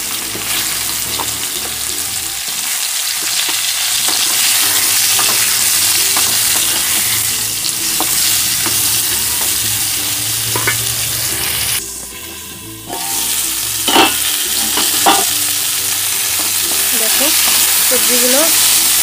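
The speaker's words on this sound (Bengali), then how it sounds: "কাঁচকলাগুলো দিয়ে ভেজে নি," Raw green banana and papaya pieces sizzle steadily as they fry in oil in a pan, with stirring scrapes and clinks over the continuous hiss and a brief lull near the middle.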